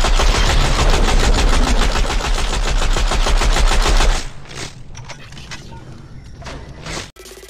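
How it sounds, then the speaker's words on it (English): Loud, rapid automatic gunfire from the Fortnite video game rattles in a steady fast rhythm for about four seconds, then drops to fainter scattered game sounds and shuffling. "Now he's being shot from Ben."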